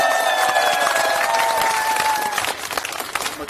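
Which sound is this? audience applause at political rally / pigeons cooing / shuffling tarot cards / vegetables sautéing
audience applause at political rally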